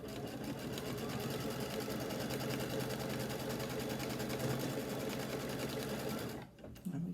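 Sewing machine stitching along the fold line of folded fabric for a quilt, running steadily and loud for about six seconds before stopping abruptly, then a brief restart at the end.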